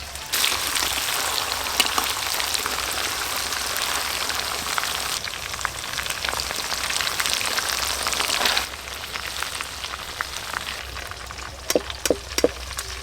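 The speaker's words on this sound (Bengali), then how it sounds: "মাংসের পিসগুলো আমি ভালো করে ভেজে নিয়েছি।" Chicken pieces sizzle and crackle steadily in a hot pan, a dense close frying hiss that drops a little partway through, followed by a few sharp utensil clinks.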